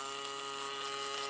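A vintage toy space shuttle's small electric motor runs with a thin, steady whine and buzz, faint and even for the whole moment with no voices.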